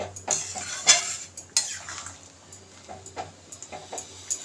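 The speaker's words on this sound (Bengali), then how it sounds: "এবার একটু নেড়ে নেব" Dal being stirred in a metal cooking pot, with a sweetener just added: a spoon scrapes and clinks against the pot in short, irregular strokes, moderately close, with sharper taps near the start and no talking.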